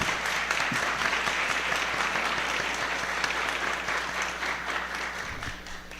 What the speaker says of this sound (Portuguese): a gente também pode aí fazer um aplauso para ele